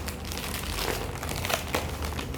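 Duct tape crinkles and crackles as it is peeled off a shipping package holding a computer mouse and case, a close, continuous rustling with a few sharper snaps and no talking.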